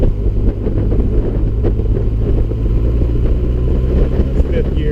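A 2013 Honda CB1100 motorcycle engine pulls from low revs and is short-shifted up through the gears, a steady mid-rev rumble heard from the rider's position under heavy wind buffeting and some talk.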